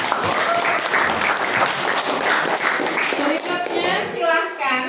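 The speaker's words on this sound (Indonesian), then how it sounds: "Beri tepuk tangan dulu." Students clap together in a vocational high school classroom, a dense, steady patter of hands lasting several seconds, with a few young voices chattering over it toward the end.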